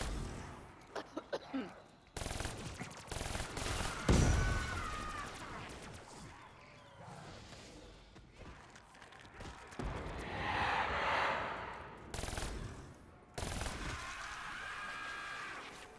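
Gunfire hits a zombie in Call of Duty: Black Ops III: fairly faint bursts of shots and impacts come in clusters, with brief talk in between.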